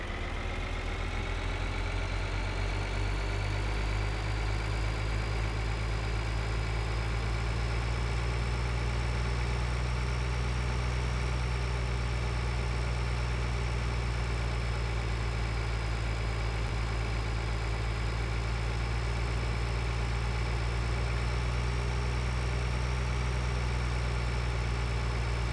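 Vehicle engine from Farming Simulator 2013, a steady mid-to-low idling rumble running continuously throughout with constant loudness and no talking.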